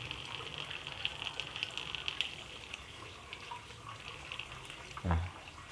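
A hydraulic ram pump runs with water rushing through it, a soft steady flow scattered with faint clicks and one dull thud near the end, all fairly quiet.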